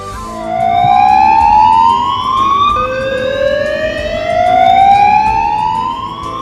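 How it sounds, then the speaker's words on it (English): A security alarm siren wails in rising sweeps, each tone climbing then resetting, loud and continuous over a faint background hum with no voices. "In case of a security incident, the security alarm will be sounded."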